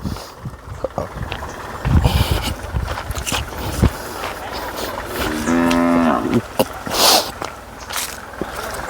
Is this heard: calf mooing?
yes